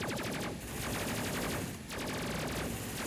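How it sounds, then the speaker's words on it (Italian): Continuous automatic gunfire in the Space Crew game, a dense rapid rattle of shots running nearly unbroken with brief dips, loud and close. "Non spariamo noi, spara in automatico"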